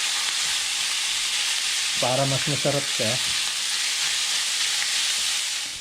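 Eggplant omelette with ground pork frying in a pan, a loud steady sizzle and hiss throughout, with a person speaking briefly over it partway through.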